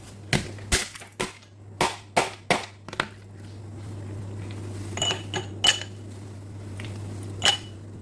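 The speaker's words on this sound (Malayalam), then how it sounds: "ഗ്ലാസ്സിലോട്ട് ഐസ് ഇട്ട് കൊടുത്തിട്ടുണ്ട്." Ice cubes drop into glasses for a juice drink: a quick run of sharp, bright clinks, then a few sparser knocks later, close by over a low steady hum.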